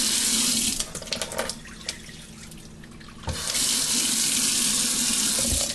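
A kitchen tap runs into a cup or sink while half a cup of water is measured for sourdough bread, a steady close hiss that dips briefly, then pours strongly again.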